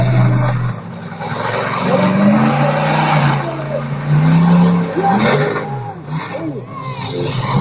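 A monster truck engine roars and revs loudly at a show, its pitch rising and falling in surges as the gearbox fails, with crowd noise and commentary-style talk mixed in.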